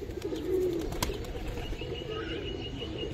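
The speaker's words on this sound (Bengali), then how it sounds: "বিগ সাইজের কবুতর অনেক সুন্দর মাশাআল্লাহ" Large-size pigeons at a Bangladeshi bird market: a soft coo rises briefly near the start, against a steady murmur of birds and background noise, with faint chirps scattered through.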